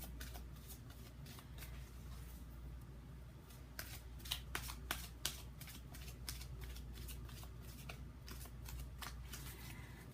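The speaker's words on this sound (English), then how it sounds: "I decided to shuffle them again" Repeated riffling and slapping of a tarot deck being shuffled nearby, soft papery flutters with a few sharper snaps, over a quiet low background hum.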